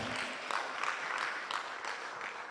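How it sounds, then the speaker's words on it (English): Sustained clapping from a conference audience at a music and performing arts gathering, dense and even with a few sharper claps standing out. "Clap for Neema one more time"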